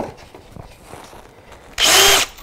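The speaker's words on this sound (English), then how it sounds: "I'm gonna drill some new holes. I'm using these countersink bits." A power drill fitted with a countersink bit bores a hole in one short, loud burst of high whirring near the end, after quiet rustling and handling noises; no speech.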